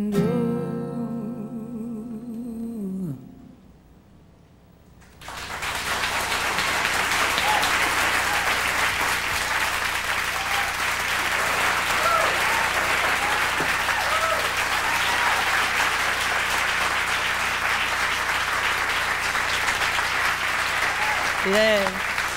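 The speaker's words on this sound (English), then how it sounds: "I'm sure glad all you people are here to clap" Audience applause at an intimate televised concert, starting after a brief quiet gap and holding steady as sustained, dense clapping with scattered cheers and whoops from a crowd throughout.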